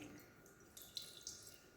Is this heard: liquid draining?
yes